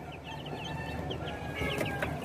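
White Leghorn and Sasso chickens cluck and chirp together in a farm pen, with a steady background of soft, overlapping calls and a few sharper clucks rising near the end.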